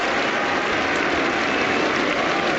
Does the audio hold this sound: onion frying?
no